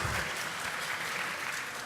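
Steady applause from a room full of people at a conference welcome, a dense patter of clapping that holds evenly throughout.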